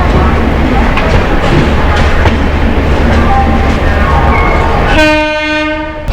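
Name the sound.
Howrah Ranchi Shatabdi Express train departing Howrah station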